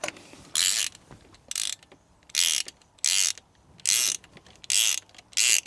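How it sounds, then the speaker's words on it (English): A ratchet turning a spark plug socket on a Ford Mondeo Mk3 engine, heard as seven close, loud bursts of rapid clicking at a steady rhythm with brief pauses between strokes. "grab the ratchet, and we'll try"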